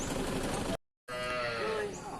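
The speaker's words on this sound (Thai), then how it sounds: "จัดวัวมาต้อนรับเขียง" Cattle at a northern Thai livestock market for cows and buffalo in Nan province, heard as loud, near lowing with a break of silence partway through and busy market noise around them.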